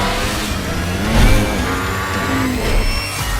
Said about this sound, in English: the V4S unique firing order makes it sound like a particularly evil Ducati